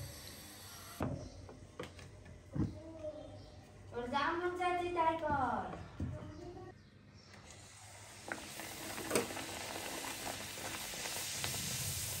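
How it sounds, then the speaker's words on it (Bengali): Luchi deep-frying in hot oil in a home kitchen on Eid morning. A voice speaks over the first half, then a steady hissing sizzle rises and continues alone. "এখন ভেজে দিচ্ছে গরম লুচি"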